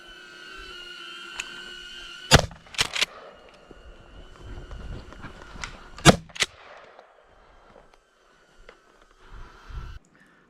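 Pump-action 12 gauge shotgun firing, two sharp loud blasts several seconds apart, each followed quickly by short mechanical clacks of the action being cycled, with quieter handling noises afterward.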